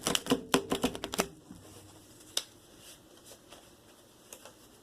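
Tarot cards being shuffled by hand, a quick burst of crisp riffling clicks in the first second, then scattered softer taps and flicks, close and fairly quiet.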